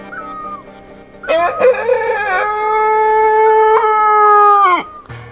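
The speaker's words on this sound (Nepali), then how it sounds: "5 केजीको भाले पनि बास्यो है साथी।" A large 5 kg rooster in a hill village crows once, loud and close, a long sustained call with a rising start and a drawn-out falling finish, preceded by a faint bird chirp.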